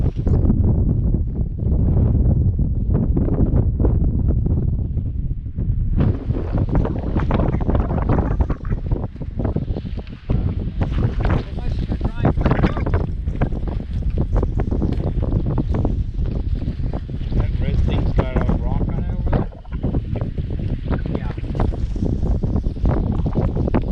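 A wind storm on the Mackenzie River roars and buffets the microphone without pause, a loud, dense, gusting rush that carries faint flapping beneath it throughout.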